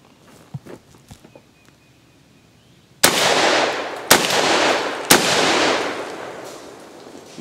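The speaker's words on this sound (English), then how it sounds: "It's just the softest shooting 12 gauge I've ever fired." Three loud, close blasts from a Remington VersaMax tactical 12-gauge autoloading shotgun firing 2¾- to 3.5-inch shells, each sharp crack trailing into a long ringing echo after a stretch of quiet handling noises.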